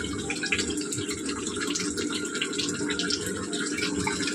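A kitchen tap runs steadily while dishes are washed at the sink, a continuous close hiss of flowing water with faint clinks and splashes.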